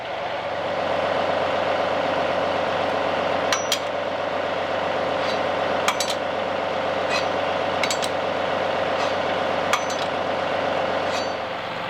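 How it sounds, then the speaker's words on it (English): A tractor engine idles steadily with a low, constant rumble, close by, with a few faint metallic clinks scattered over it. "I was about to drive the tractor up on the trailer"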